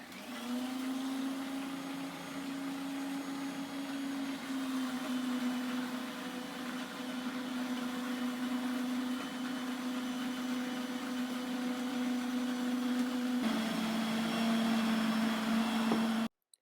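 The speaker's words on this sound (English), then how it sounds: "the sound of the blender was really terrible" A blender making pesto runs steadily for the whole stretch, a loud continuous motor whine with a slight pitch drop near the end before it cuts off.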